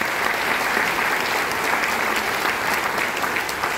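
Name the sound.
audience applause for Team PMA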